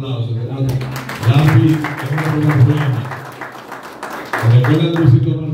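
Audience applause at a Spanish-language comedy show, a rattle of claps that swells and dips beneath a voice talking loudly over it throughout.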